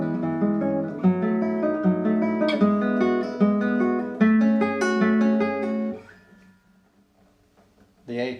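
Classical guitar playing Carcassi's Etude No. 8, a steady run of plucked notes and arpeggiated chords for about six seconds, then a quiet pause and one last soft strum near the end.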